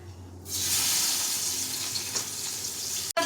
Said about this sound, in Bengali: এখন আমি রসুন সম্বরা দিয়ে এটাকে সম্বরা দেবো